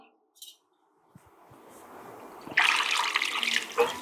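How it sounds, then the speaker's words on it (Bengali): Potatoes and peeled vegetables rinsed under a running kitchen tap, a steady splashing water sound that starts partway through and grows louder, with a brief spike near the end. "এটাকে আমাকে একটু ধুয়ে ফেলতে হবে"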